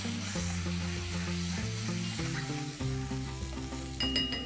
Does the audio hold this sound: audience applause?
no